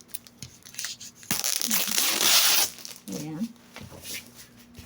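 Tearing and crinkling of tightly wrapped packaging on a balikbayan box being opened, a dense ripping burst in the middle with crumpling around it, close by, while a person talks over it.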